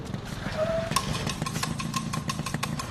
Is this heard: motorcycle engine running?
yes